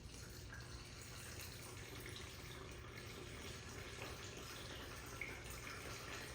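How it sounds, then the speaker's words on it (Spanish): Filtered water poured steadily into a bowl on a kitchen scale while making a professional soft-serve ice cream base, a continuous low rushing flow with no talking. "vamos a poner los 900 de agua que se necesita"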